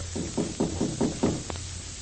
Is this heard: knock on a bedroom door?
yes